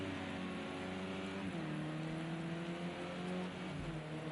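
Steady rain hisses over a touring car racing video game, with a car engine droning and shifting pitch underneath, continuous and moderately quiet throughout.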